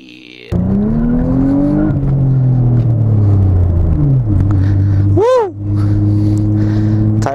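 A motorcycle accelerating hard in first gear, its loud engine note climbing steeply, dropping, then revving again, with a quick pass-by whoosh near the end.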